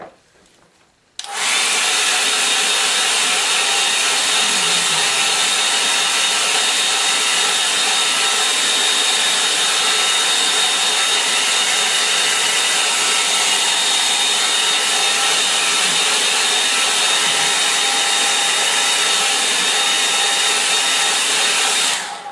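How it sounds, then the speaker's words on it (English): A hairdryer blows steadily on a watercolour painting of rain clouds over an estuary, switching on after a second of quiet and then holding a loud, constant whooshing roar close by. "I'll give that a dry with a hairdryer"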